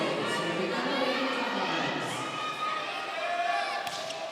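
Crowd cheering and roaring at a collegiate women's volleyball match, FEU versus UST in the V-League Collegiate Challenge, a steady loud swell of voices sustained through the whole moment.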